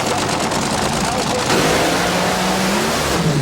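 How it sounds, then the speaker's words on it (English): A 1987 Bakersfield fuel dragster roars past loud and close on its run, the engine note shifting partway as the blower belt comes off, then dropping toward a rougher, lower drone. "it sounded like a blower belt come off right as he passed our camera"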